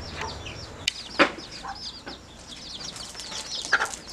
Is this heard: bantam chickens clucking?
yes